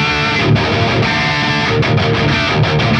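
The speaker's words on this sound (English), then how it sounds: "For the high-gain sound I will use my EVH 5150 Stealth Edition amp." A high-gain electric guitar plays through an EVH 5150 Stealth Edition amp into a load box, giving a loud, dense, heavily distorted tone with short chugging breaks.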